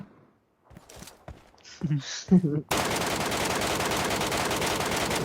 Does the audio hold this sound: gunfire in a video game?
yes